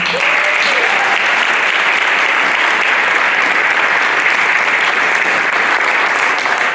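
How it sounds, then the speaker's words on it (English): Crowd at a math honor society induction ceremony applauding the new members, a loud, sustained, even roar of many hands clapping without pause across the whole stretch. "let's give everyone one more round of applause"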